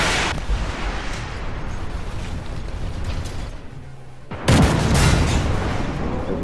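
Missiles launch and burst in the tank game Zero Hour, a sustained rumbling roar broken by a sharp, loud blast near the end, close and heavy with no voices.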